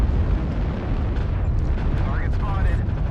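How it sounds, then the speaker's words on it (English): Rumbling artillery strike explosions boom in MechWarrior Online, a dense low roar of impacts that runs throughout, with faint rising whines over it and a voice speaking beneath. "Artillery strike activated."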